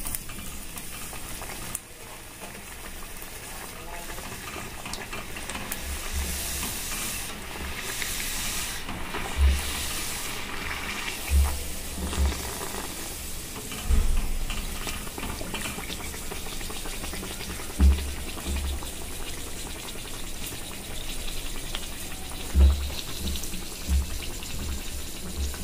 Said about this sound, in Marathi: अशा प्रकारे आता आपण सगळ्या पुऱ्या तळून घेऊया